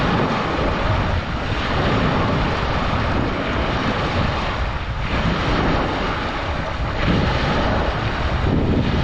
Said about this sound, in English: hearing those waves. It's so relaxing.